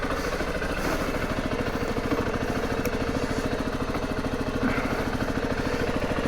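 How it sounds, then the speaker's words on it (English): A Zontes T2 310 motorcycle with its single-cylinder 300 cc engine idles close by, giving off a steady, even, fast-pulsing putter that holds for several seconds and carries no voices. "For a single cylinder thumper, it's not even a thumper at 300 cc."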